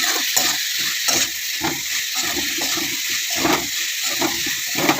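Onions sautéing in a pan on a home stove give off a steady, close hissing sizzle with crackly spitting bursts, continuous through the whole stretch with no talking.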